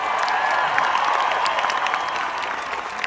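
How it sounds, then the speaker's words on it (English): A concert audience at a show applauds loudly and continuously, a dense wash of many hands clapping with scattered cheers, sustained and steady throughout. "please give a massive round of applause to Lauren"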